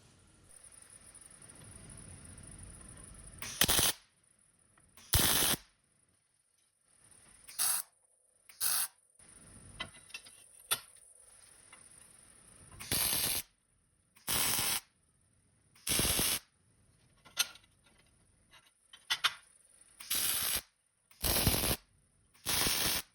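Short, crisp arc-welding bursts from tack welding 3/8-inch steel plate on a backing bar, about a dozen loud crackling tacks separated by near-silent pauses and a faint hum.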